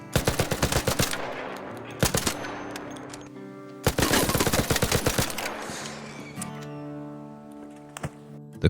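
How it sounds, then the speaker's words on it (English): Gunfire in the video game ARC Raiders, loud bursts of rapid automatic shots separated by brief pauses, with ringing tails and metallic tonal hums lingering between volleys. "Gunshots cracked in the air."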